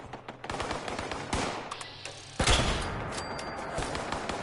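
Automated turrets open fire in the video game Fallout 76, with rapid crackling bursts of gunfire, then a heavy, louder blast partway through, followed by a sustained rumble and continued shots, all without speech.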